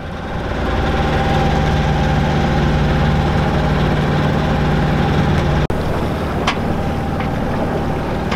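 Motor of a Dana 24 sailboat idles steadily on a calm, windless morning sea, a continuous low drone with light wind buffeting the microphone and a brief dropout near the end.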